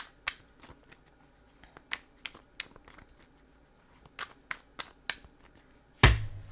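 Tarot cards being shuffled by hand up close, a series of quick riffling snaps and flicks spread irregularly across the span, ending in a louder thump as the deck is set down.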